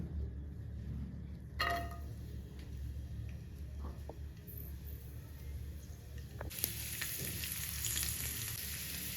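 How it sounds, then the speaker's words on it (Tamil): Garlic frying in oil left over from frying brinjal for a spicy kara kuzhambu, a steady close sizzle with occasional scraping stirs and a louder burst of crackling near the end. "அதே எண்ணெயில் கொஞ்சமாக நான் பூண்டு சேர்த்துக்கிறேன்"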